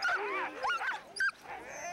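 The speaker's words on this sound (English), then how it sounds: "greeting each of his pairs of dogs and encouraging them before the race" Sled dogs at a Canadian Open sled dog race bark, yip and whimper excitedly before the start. Close, overlapping high-pitched whines build to a short sharp yelp and then fade to a softer whimper.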